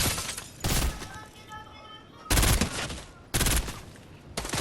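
Rapid bursts of gunfire in the video game Fortnite, several loud sharp volleys separated by short gaps, with players talking in between.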